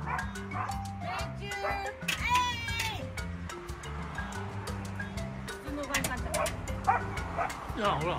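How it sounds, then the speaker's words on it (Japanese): A Great Pyrenees barks and yips repeatedly in varied, unusual tones, close by, with people talking over and between the barks. "いろいろ、いつもと違う吠え方する。"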